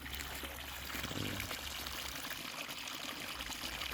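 Irrigation water from a running motor pours steadily into a bed of a garlic field, a continuous broadband rushing and splashing that holds at an even level throughout, with no talk.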